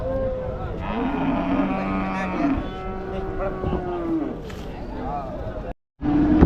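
Native cattle low repeatedly at the Oorappam cattle market in Krishnagiri, several drawn-out moos rising over crowd babble and people talking nearby, followed by a brief gap and another moo.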